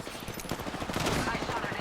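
Rapid bursts of video game gunfire crackle throughout, layered and busy like a firefight, with a faint voice mixed in underneath.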